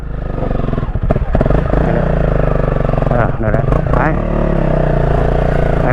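Motorcycle climbing a steep mountain dirt trail at Khao Ting Khlui in Rayong, its engine droning loud and close throughout with revving surges and clattering over rough ground, while riders shout to each other over it.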